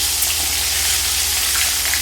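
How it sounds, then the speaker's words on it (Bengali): Katla fish fries in oil with a loud, steady hissing sizzle heard up close, unbroken for the whole short stretch. "এদিকটা এমনি করে ভেজে আমি তুলে নেব।"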